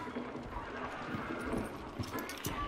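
A spooked horse in the video game Hunt: Showdown clatters off with rapid hoofbeats, clip-clopping steadily across the whole stretch at moderate distance beneath the game's background noise.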